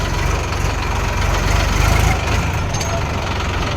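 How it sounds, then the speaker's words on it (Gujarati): A tractor engine runs steadily on a road, a low continuous rumble with a rapid pulsing throb, heard close and without pause. "મને આગળ ટ્રેક્ટર લઈને જાય છે"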